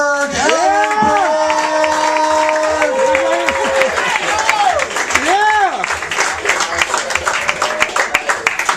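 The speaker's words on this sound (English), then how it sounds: "Clap it up, let's get for Aaron Berg!" A comedy club audience breaks into loud, sustained applause and cheering for comedian Aaron Berg. A host's voice shouts over the clapping as the crowd noise builds and stays dense throughout.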